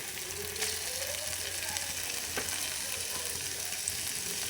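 Chicken pieces sizzle steadily in a hot pan while being stirred, a continuous bright frying hiss with occasional scraping strokes and no talking.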